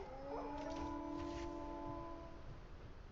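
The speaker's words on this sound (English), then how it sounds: "I heard you howling." Puppies in the video game Surviving Earth let out faint, drawn-out howls that overlap briefly against a soft, steady background hiss.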